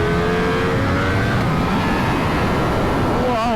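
A Ducati V4S superbike on slick tyres screams around a race track, its engine a loud sustained roar heard from the rider's position, with a rising rev toward the end.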